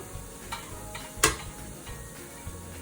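Pav bhaji with garam masala being stirred in a pan: irregular spoon scrapes and taps, one sharper clack near the middle, over a faint low sizzle, with no voices.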